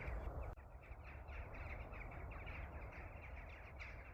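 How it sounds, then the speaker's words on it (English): Several crows caw in short repeated bursts as they fly overhead, the calls fairly clear above a steady outdoor background hiss. "That's the crows."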